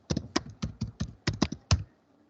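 Fingers type a short command on a computer keyboard in a Windows command prompt, about ten crisp close keystrokes in quick succession before falling quiet.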